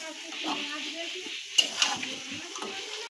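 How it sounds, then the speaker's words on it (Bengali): Hilsa fish heads and taro leaves fry in a pan with a steady soft sizzle, while a spoon stirs in with a few scraping knocks against the metal. "দিয়ে ভালো করে আমরা ভেজে নেব, নাড়িয়ে নাড়িয়ে নাড়িয়ে নাড়িয়ে ভালো করে ভেজে নেব এটাকে আমরা।"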